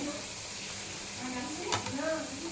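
Onion and ginger frying in a pan, giving a soft, steady sizzle with brief stirring scrapes close by.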